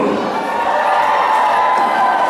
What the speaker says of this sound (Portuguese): Quem está feliz aí embaixo faz barulho!